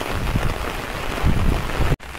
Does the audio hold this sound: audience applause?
no